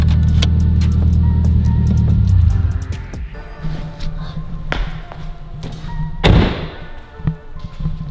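A Subaru WRX STI on a snowy road, its engine droning low before easing off, followed by scattered thumps, clunks and rattles from the car, with one loud thud partway through.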